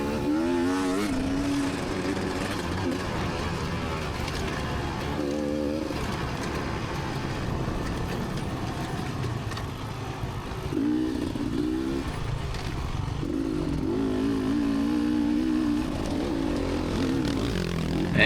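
Racing motorcycles at Richmond run hard on the track, with a continuous loud engine roar and several rising throttle surges from bikes passing close by.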